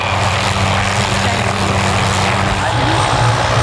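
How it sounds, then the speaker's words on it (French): A loud, steady roar of rotor and engine noise fills the clip as a helicopter flies close overhead, with no clear talk. "Il y a un hélicoptère qui vole dans les airs."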